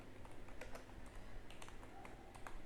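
Quick, light keystrokes on a computer keyboard come in short irregular bursts as a prompt is entered, close and fairly quiet, with no voices.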